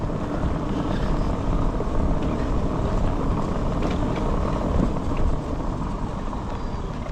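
An electric motorcycle, a city and town bike for short distances, rides along with a steady, continuous drone and a broad rushing noise at close range, holding even throughout with no voices.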